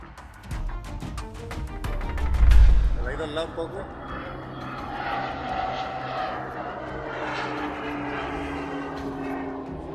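Propeller airplane at an airshow making a steep right turn and a hard landing near the runway threshold: a loud engine drone with a heavy low thump early on, then a continuing rumble and engine noise.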